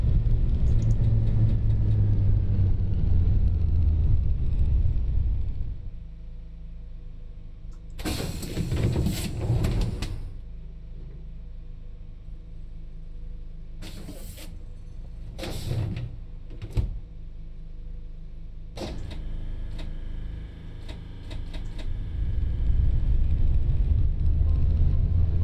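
Munich Type M tram accelerating in LOTUS Simulator: a steady low motor rumble that eases off mid-run, with sharp door-like clunks and bursts, then swells loud again toward the end.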